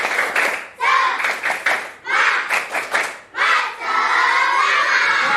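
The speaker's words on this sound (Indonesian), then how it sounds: "Sekali lagi tepuk semangat." A classroom of schoolchildren standing to do a rhythmic spirit clap, bursts of quick patterned clapping broken by short pauses, with the children chanting and shouting along before ending in a long sustained cheer.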